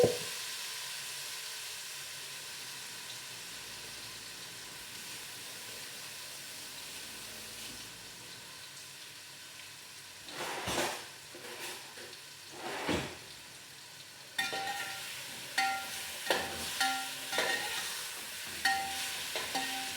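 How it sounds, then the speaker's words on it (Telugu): Marinated chicken pieces frying in oil for butter chicken, a steady soft sizzle and hiss throughout, with occasional stirring scrapes and clatters growing busier toward the end; no talking. "చికెన్ అయితే అలా మగ్గనిద్దామండి ఆయిల్లోని"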